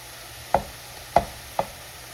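Partly frozen minced meat for bobotie broken up in a pan with a meat-breaker utensil: three sharp, evenly spaced scraping knocks against the pan over a faint background hiss, with no talking.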